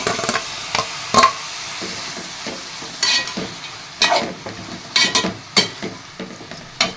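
Onions and tomatoes sautéing in a pan for vadacurry: a steady low sizzle with repeated scraping stirs and sharp clinks of a spoon against the pan, close and loud.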